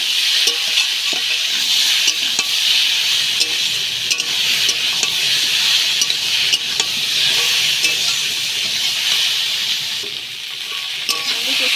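Soaked chickpeas stir-fried in a pan for a spinach and prawn dish, a steady loud sizzle with scraping stirs running throughout, close and with no talking.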